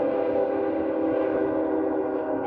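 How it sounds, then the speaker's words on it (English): A distant train passes beyond a tree line, heard as a low, steady rumble with a faint tonal drone, even and unbroken, at an outdoor equipment show with threshers and tractors. "And that is the train."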